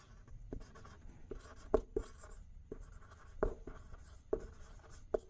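A pen scratches across paper as a Hindi passage is translated into English by hand, with short scattered strokes and taps at an uneven pace, close and quiet, with no talk.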